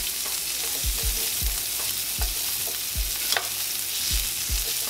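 Onions fry in rib oil in a pan for country-style BBQ ribs, giving a steady loud sizzle with repeated scraping stir strokes about every half second.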